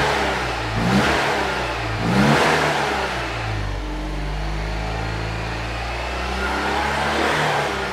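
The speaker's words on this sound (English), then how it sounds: "We'll give her a few revs and then we'll stop and check those connectors aren't hot." A Citroën 2CV engine revs up close by in two quick surges, then drops back to a steady idle before rising gently once more.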